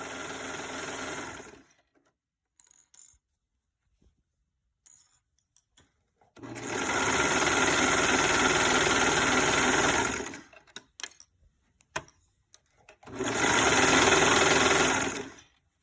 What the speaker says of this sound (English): Let's go ahead and sew that.